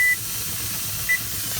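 Kitchen timer beeping while canning turkey bone broth, two short electronic tones, one at the start and one about a second later, over a steady background hiss.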